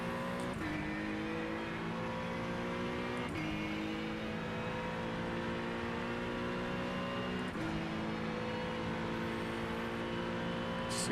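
Race car engines drone steadily in the iRacing sim at Le Mans, with pitch drops at gear shifts as hypercars close in behind; a continuous, moderately quiet engine whine with no talk over it.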